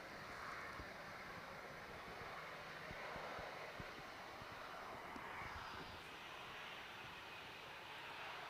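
Airliner lining up on the runway at Manchester Airport in stormy weather, a steady distant jet engine roar mixed with wind noise throughout, with no talking.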